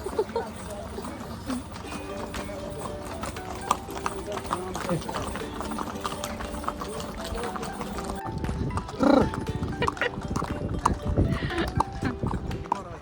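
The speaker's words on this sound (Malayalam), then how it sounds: "വഴികളാണ് നമ്മൾ കുതിരപ്പുറത്ത് കയറിക്കൊണ്ടിരിക്കുന്നത് ഗൈസ്." Horse hooves clip-clop along a trail during a horseback ride in Pahalgam, Kashmir, steady and fairly close under a busy outdoor background, with a louder burst of noise near the end.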